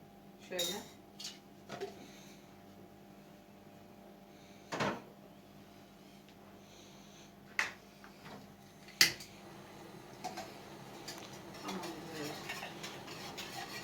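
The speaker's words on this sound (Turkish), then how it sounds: "İki tatlı kaşığı kahvemizi koyuyoruz." A metal spoon scoops ground coffee into a cup, giving a few sparse, light clinks and scrapes spaced several seconds apart over a quiet room background.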